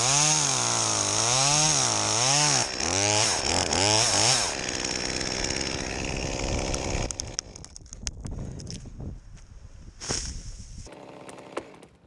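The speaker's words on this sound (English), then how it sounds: "once that wind dies down, he'll fire up the saw, make his back cut, maintain his hinge wood" A chainsaw cutting the back cut on the top of a 65-foot spruce tree, loud and close, with the engine revving up and down in repeated surges, then bogging into the wood before easing off amid rustling and cracking.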